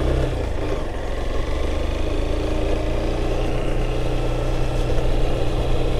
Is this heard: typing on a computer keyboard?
no